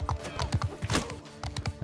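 Rapid hoofbeats of mounted horse archers in the video game Bannerlord, a quick uneven clip-clop from several horses passing close by.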